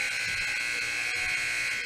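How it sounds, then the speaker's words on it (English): A basketball game buzzer at a girls' varsity game blares steadily and harshly through the whole stretch, a continuous electronic tone over gym ambience. "You hear the buzzer"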